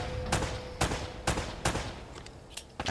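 Video game gunfire in Uncharted: Drake's Fortune, a handful of sharp, separate shots spaced irregularly over a few seconds, fairly faint against low background noise.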